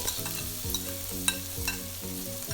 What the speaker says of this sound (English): Stir until well combined.